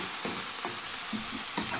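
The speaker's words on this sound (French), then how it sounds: "on va venir mélanger et cuire cette préparation sur un feu moyen pendant environ 7 à 8 minutes" A paprika mixture sizzles in a pan over medium heat while it is stirred, giving a steady frying hiss broken by soft scraping strokes at irregular intervals.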